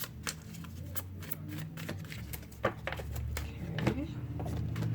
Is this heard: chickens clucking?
no